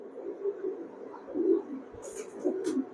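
Pakistani highflyer pigeons coo in soft, repeated low rolling phrases at close range, fairly quiet, with a few brief higher scuffs and clicks toward the end.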